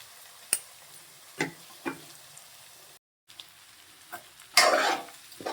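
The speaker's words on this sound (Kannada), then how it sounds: "ಆಲೂಗೆಡ್ಡೆ ಹಾಕಿದ ನಂತರ ಈ ಥರ ಚೆನ್ನಾಗಿ ಮಿಕ್ಸ್ ಮಾಡ್ಕೊಬೇಕು" Potatoes being stirred in a pan while cooking chitrannakora gojju, a Kannada home-style dish: a few scattered scraping clinks of a spoon, then a louder burst of sizzling near the end, with no talking.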